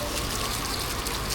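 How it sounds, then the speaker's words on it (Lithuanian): Water poured out for washing feet before stepping into hot water, in a Thai village: a steady, continuous splashing pour lasting a moment and then cutting off abruptly at the end. "Turbūt plaunam kojas prieš lipant į karštą vandenį"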